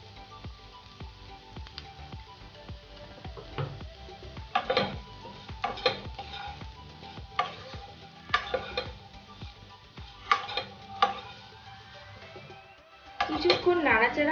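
Potatoes with ground cumin, black pepper and spices are stirred in a pan, giving intermittent spoon scrapes and clinks against metal with a faint sizzle underneath, close and fairly quiet, with a voice talking now and then.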